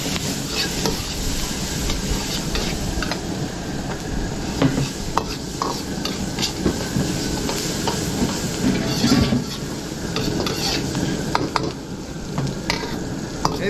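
Ground pork and onion sauté in margarine for a spaghetti sauce, a steady loud sizzle with repeated scraping stirs running throughout.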